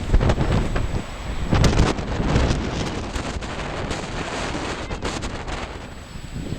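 Strong gusty wind buffets the microphone on an exposed hilltop fort site on Colonsay, loud and continuous with rising and falling surges.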